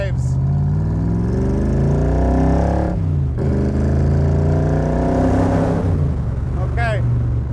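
A 1965 Shelby Cobra Backdraft with a Roush engine revs at half throttle, its loud exhaust rising and falling in sweeping pitch changes, with a brief dip and a voice audible near the end.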